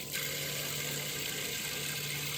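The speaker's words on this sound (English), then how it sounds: "You got your typical shower." A shower head sprays hot water in its standard shower mode, giving a steady, even hiss of falling water that stays constant throughout, with a faint low hum underneath.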